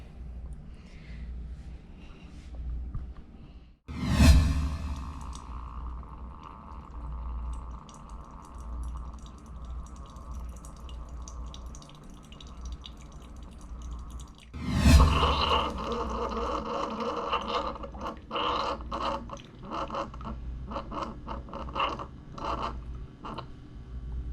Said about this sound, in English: Gonna let it drip, droppity drip, drop, and then you're gonna hear the rumble